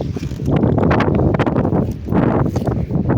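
Strong wind buffets the microphone in heavy, continuous gusts, loud and rumbling, with no voices heard.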